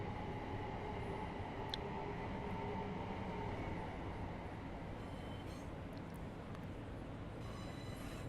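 A Class 375 electric multiple unit running on the South Eastern High Speed line in Train Sim World, heard as a continuous low rolling rumble with faint high squeals near the end, and no voices.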